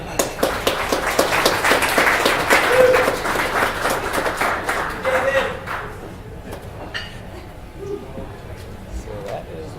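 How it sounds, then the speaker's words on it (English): Applause rises from the audience at the close of an evening tech talk, a brisk patter of clapping that is loud at first, then thins out and fades over several seconds, with some voices murmuring under it. "Round of applause."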